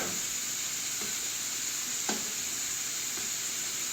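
Cheese steak meat sizzles steadily in a pan, a constant bright hiss with a few soft scrapes and taps from stirring.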